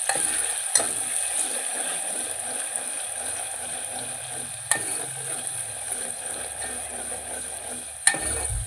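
Ground masala paste roasting in oil for Kolhapuri misal, giving a continuous soft sizzle with a few sharp spoon knocks against the pan at intervals, close and steady, no voices.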